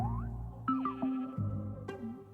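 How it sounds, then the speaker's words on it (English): Sheep in the Minecraft video game bleat several times in a row, close and clear, with short wavering cries and brief gaps between them. "I mean, there's a lot of sheep over there"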